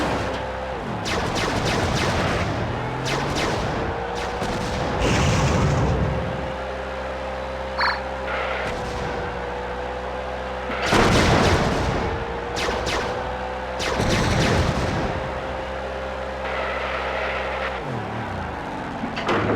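Heavy weapons fire and explosive blasts in the WWE Crush Hour vehicle combat game, loud booming bursts repeating every few seconds over a constant engine drone and hum.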